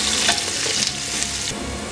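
Onions sizzling steadily in hot oil in a pan for a chicken pulao cooked in a pressure cooker, a continuous close frying hiss with faint stirring scrapes and no voices.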